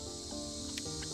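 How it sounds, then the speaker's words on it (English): Cicadas drone in warm outdoor weather near a strawberry tower garden project, a steady high buzzing hum that runs throughout at moderate distance, with a couple of faint brief clicks. "You can still hear the cicadas."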